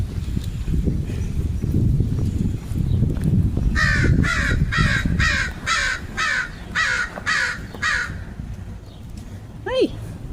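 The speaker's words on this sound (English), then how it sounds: "It could be one of the Safeway crows that found me." Near a Safeway store, a crow caws about eight times in a quick, steady series, loud and close over rustling and a low rumble in the background, followed by a single rising call near the end.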